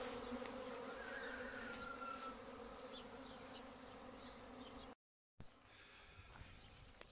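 Many honey bees buzzing close by at a syrup feeder in a dense, continuous drone, broken by a brief silent gap before the swarm hum resumes.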